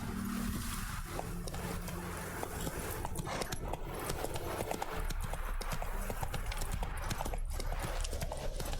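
Horse hooves clip-clopping in The Witcher 3, a steady galloping rhythm that is close and continuous, layered with game ambience and music.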